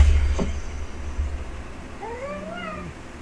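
A house cat left home alone meows alone with a rising, drawn-out cry, loud and close, after a brief thump.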